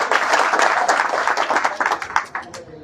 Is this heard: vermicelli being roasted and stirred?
no